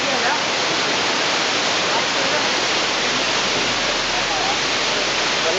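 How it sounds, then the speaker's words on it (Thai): Iskandar waterfall, a natural year-round waterfall in Malaysia on the way down from Cameron Highlands, roars as a steady, loud, broadband rush of falling water with no breaks. "ก็เป็นน้ำตกธรรมชาติที่มีน้ำตลอดทั้งปีนะครับผม"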